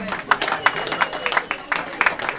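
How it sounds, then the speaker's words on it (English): An audience at a jazz and blues party applauds a string bass player, scattered, crisp hand claps from a small crowd nearby, lasting a couple of seconds. "another round of applause for Gary Wright and String Bass"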